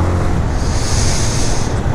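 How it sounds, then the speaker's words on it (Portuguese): Strong cold wind roars continuously across the microphone outdoors near the sea, a loud steady rushing buffet with low rumble and surf-like wash, no voices. "O vento tá rasgando."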